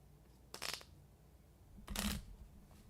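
Two quick bursts of a deck of Frosthaven board game cards being shuffled, close and fairly loud, separated by a pause over a quiet room.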